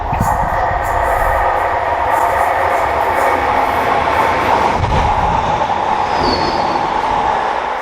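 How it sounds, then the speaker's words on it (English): Train rolling past a level crossing on the Wherry Lines between Norwich and Great Yarmouth, a steady, loud rumble of wheels and carriages sustained throughout, with faint squeal and clatter on top. "Level crossing gates have gone down, a train is imminent."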